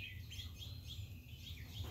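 Small birds chirp near garden feeders on a rainy morning, giving faint, repeated high tweets over a steady low background rumble.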